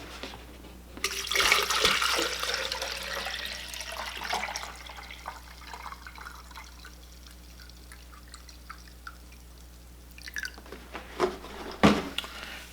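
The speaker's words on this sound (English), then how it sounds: "We'll go ahead and fill this up with distilled water." Distilled water pours into an empty pitcher, a soft splashing stream that starts loud and tapers, followed by a few faint drips and light clinks near the end.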